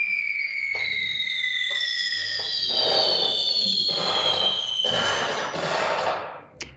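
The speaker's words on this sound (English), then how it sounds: "you'll be able to hear and see fireworks in the air." Synthetic fireworks effect from a Cosmo switch iPad app: rising whistles followed by crackling bursts, loud and close, ending in a short pop.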